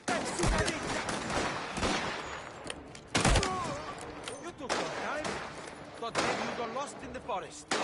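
Gunfire from Mafia: The Old Country on PS5, rapid bursts and single shots cracking over a busy game mix, with speech-like voices underneath and loud impacts near three, five and six seconds.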